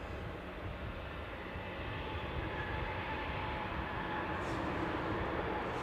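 A SunExpress airliner departs Newcastle airport, its broad jet engine roar steady and continuous at moderate distance for the whole stretch, a dense rumbling wash with no talk over it.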